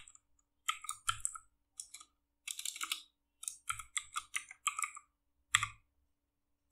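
Code is typed on a computer keyboard in quick bursts of crisp, close clicking keystrokes with short pauses between runs and a few heavier thumps, with no one talking.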